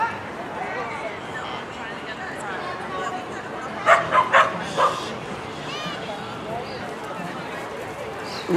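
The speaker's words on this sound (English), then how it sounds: "That's a show dog, that one." A show dog gives a short burst of three or four quick barks mid-clip, close by, over steady background chatter and crowd noise at an outdoor dog event.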